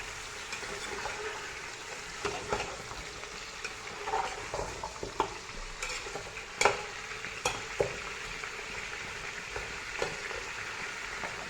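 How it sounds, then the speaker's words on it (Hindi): Beef trotters frying in a pan, a steady close sizzle with occasional stirring clatter and scrapes, no talking. "अब इसको मैं फ्राई करूँगी"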